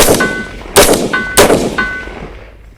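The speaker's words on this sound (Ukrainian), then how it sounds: "зараз ми постріляємо трошки по механіці" Three sharp rifle shots, evenly spaced and loud, each a crisp crack followed by a short ringing tail.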